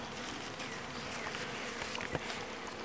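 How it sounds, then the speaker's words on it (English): Bees buzz densely around an open hive, a steady, close, enveloping drone with no talk over it. "See the bees up here already?"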